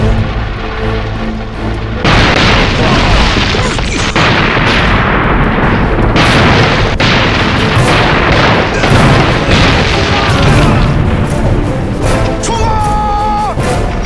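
Hand grenades explode and gunfire erupts in a war-film ambush on a Japanese military convoy. Loud, continuous booms and bursts fill the scene after a quieter opening.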